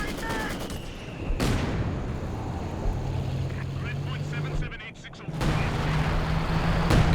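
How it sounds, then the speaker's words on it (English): Company of Heroes 2 artillery shells land in sharp, loud bursts amid ongoing gunfire and battle noise, with a commentator talking over the barrage throughout. "Artillery down on the machine gun out the back there."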